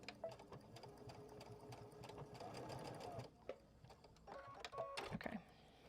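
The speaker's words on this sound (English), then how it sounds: "I can gently sew over these pins." A sewing machine stitches across a Lonestar quilt and runs over the pins holding it, a faint, quick mechanical whir with small ticks and clicks that starts and stops in short bursts.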